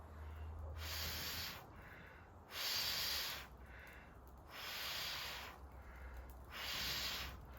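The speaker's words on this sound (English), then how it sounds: "if you just blow in that diamond shape, you see it's so powerful" Four long, forceful breaths blown through the fingers onto a campfire in a regular rhythm, each a close hissing whoosh separated by short pauses, over a low background rumble.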